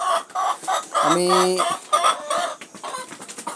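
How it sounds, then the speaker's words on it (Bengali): Laying hens on a small poultry farm cluck repeatedly and loudly at close range, with one drawn-out cackle in the middle and a voice briefly audible. "আমি কিন্তু ডিম পাড়া মুরগিগুলোই বিক্রি করে ফেলতেছি"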